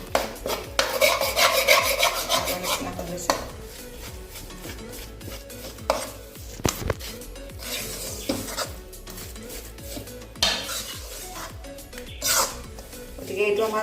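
Roasted besan and atta mixture is stirred in a kadai, producing repeated scraping and rasping strokes of a spoon against the pan in uneven bursts, with quieter gaps and faint clinks between them.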